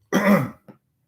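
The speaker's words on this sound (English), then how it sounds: "I'm going to clear my throat." A single short, raspy throat clearing, close and fairly loud, followed by a brief softer grunt.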